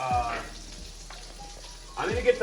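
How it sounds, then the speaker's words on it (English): Mushrooms sizzle in a hot pan as Chicken Marsala is cooked, a soft steady frying hiss that stays fairly quiet. Brief voice sounds come at the start and the end. "mushrooms in this hot pan first"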